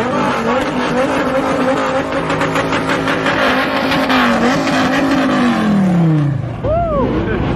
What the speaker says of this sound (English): We got the Bugattis heading out.